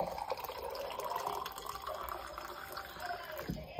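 Water poured from a jug or bottle into a drinking glass, a close, steady trickling fill that runs for a few seconds and tails off at the end, with no talking.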